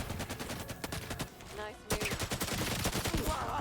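Rapid bursts of gunfire in the 007 First Light video game, dense automatic volleys that briefly pause midway and then resume, loud and close, with faint game sounds underneath.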